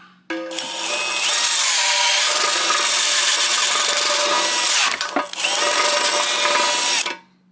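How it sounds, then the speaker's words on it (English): A power drill reams out a hole in a metal pan during a VW MK6 turbo build, a loud continuous grinding whine running nearly seven seconds with one brief pause partway through. "we'll just ream it out a little more"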